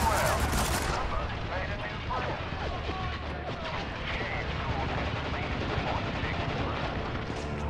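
Heavy machine gun fire in the war shooter Spec Ops: The Line, a dense, continuous battle din of rapid gunshots and explosions that stays loud throughout, with voices talking over the fighting.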